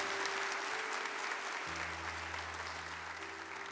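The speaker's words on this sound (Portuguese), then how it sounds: "Aplauda com alegria a palavra de Deus" A church congregation at a Catholic healing service applauds the word of God with a sustained, even wash of crowd clapping that holds steady throughout, with a low hum running beneath it.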